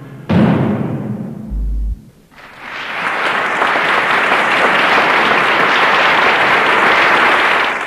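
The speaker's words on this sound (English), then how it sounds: "He motions for the players to stand and share in the enthusiastic applause." The loud final chord of an orchestral premiere of Nicolas Flagello's Odyssey rings out and cuts off, then a large audience breaks into sustained, enthusiastic applause that keeps building and holds steady.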